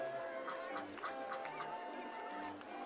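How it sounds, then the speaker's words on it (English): A duck in the RollerCoaster Tycoon video game quacks in a few short honking calls over a steady background of park ambience, moderately loud and close. "The duck quacks."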